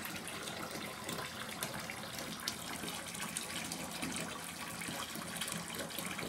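Harry Potter Ravenclaw bath bomb fizzing in bath water, heard as a soft, steady hiss and gentle liquid bubbling, faint and continuous with no voices.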